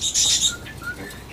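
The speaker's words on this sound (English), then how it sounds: "I love birds." Birds chirp in short, high twittering bursts, loudest at the start and then fading to a few fainter chirps, with no talking.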